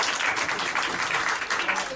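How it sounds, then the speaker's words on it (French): An audience applauds a pupil at an end-of-year CM2 primary school show, the clapping a steady dense patter that carries on evenly from start to finish. "On peut l'applaudir encore une fois, zéro absence dans l'année."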